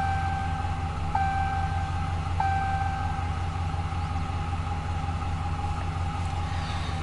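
A 2015 RAM 1500 SLT Big Horn crew cab pickup idles after being started, a steady low engine drone with a faint tonal chime heard from inside the cab.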